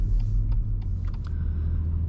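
A BMW M140i driving along, with a low, steady engine and road rumble filling the cabin and faint clicks and ticks over it; nobody speaks.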